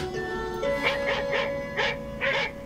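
A dog barks about five times in short, evenly spaced yelps over a faint steady tone in the background.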